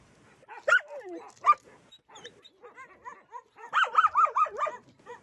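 Puppies in new enclosures on the upper level of a dog facility give faint, intermittent yips, whimpers and short barks at a moderate distance, with quiet gaps between bursts.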